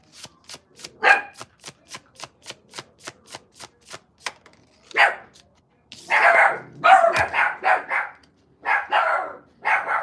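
Puppies barking nearby, first a quick series of sharp evenly spaced yaps, then louder overlapping barks in clustered bursts.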